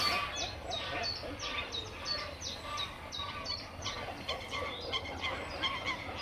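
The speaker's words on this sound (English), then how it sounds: "I think these are just a couple of grey lag geese here." Repeated honking of greylag geese, several calls in quick succession at a moderate distance over faint background noise, at Castle Water, Rye Harbour Nature Reserve.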